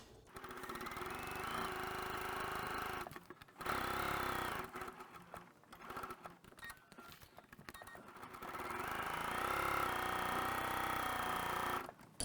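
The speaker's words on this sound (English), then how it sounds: "We're going to sew all the way around this project, keeping a 1/4 inch seam all the way around." A sewing machine runs steadily around the edge of a quilted project, stitching a 1/4 inch seam, with a brief pause near the middle before the motor hums up again.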